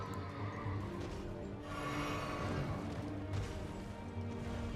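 A horse in the video game Elden Ring whinnies and neighs amid clattering hooves and combat crashes, the calls rising over a dense game soundscape.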